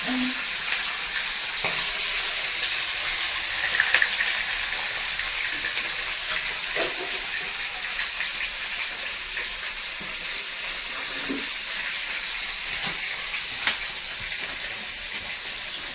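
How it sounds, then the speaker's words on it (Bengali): Fish frying in hot oil gives a continuous loud, close sizzle with scattered pops and spatters throughout, a few faint knocks now and then. "মাছগুলো তেলের মধ্যে লাফালাফি লেগেছে।"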